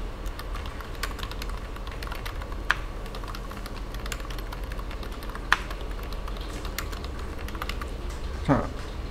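Steady typing on a computer keyboard with quick key clicks throughout and a few heavier single strokes as Enter is pressed, close and clear over a faint background hum.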